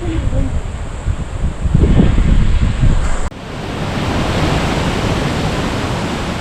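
A waterfall swollen after heavy rain roars as a loud, steady wash of broadband noise, with a rougher, gustier stretch in the first half before the sound settles into an even rush.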